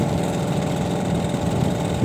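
A Vespa scooter engine runs steadily on a test ride, a close, continuous puttering drone with no breaks in the short stretch.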